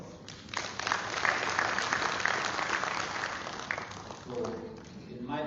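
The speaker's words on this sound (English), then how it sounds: "Ladies and gentlemen, I think we need another round of applause." A round of applause from the audience at a Sierra Leone government report launch, a steady wash of many hands clapping that fades out as a voice begins speaking over the final seconds.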